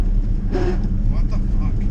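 Honda CRX beater with transmission trouble pulling hard, a steady loud engine drone throughout with a brief burst of higher-pitched strain near the middle as the tires bite.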